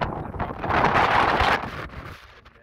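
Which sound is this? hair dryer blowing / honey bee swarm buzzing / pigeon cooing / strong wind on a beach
strong wind on a beach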